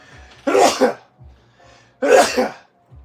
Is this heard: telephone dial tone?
no